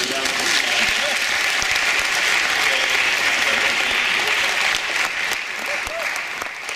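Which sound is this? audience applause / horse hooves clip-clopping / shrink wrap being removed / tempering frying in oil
audience applause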